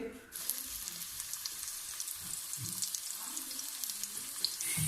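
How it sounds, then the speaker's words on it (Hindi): Medium onion frying in about two tablespoons of hot oil in a karahi, a steady close sizzle with faint stirring clicks and scrapes throughout. "एक मीडियम प्याज को हमने लाइट ब्राउन तकरीबन कर लिया है, पिंकिश हो गई है।"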